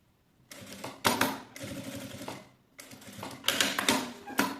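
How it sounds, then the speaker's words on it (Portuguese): Domestic sewing machine stitching a bag strap in bursts of rapid mechanical whirring and clatter, each run starting and stopping with pauses between, close and fairly loud with no talking. "vou costurar a minha alça"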